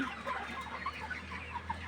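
Layer hens, some with watery, swollen eyes, cluck softly in a steady, overlapping murmur over a constant low hum, with no voices.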